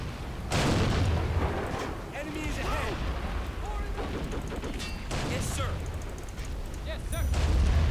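Artillery guns firing in the World War II strategy game Men of War: Assault Squad 2, with heavy booms and rolling gunfire repeating over a dense battle din while someone talks throughout.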